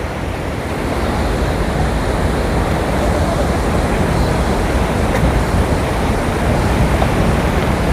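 Water from the five opened shutters of Kallarkutty dam pours out in a steady, loud, broadband roar that holds constant and fills the whole scene, with no voices over it.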